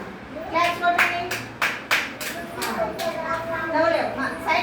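Children clap their hands during a classroom number-and-shape jumping activity, a series of sharp, separate claps at an uneven pace, mixed with children's voices and talking.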